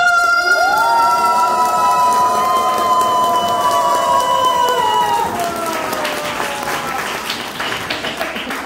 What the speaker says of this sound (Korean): 우리 모든 목사님들 다 같이 크게 박수로 환호해 주시기를 바라겠습니다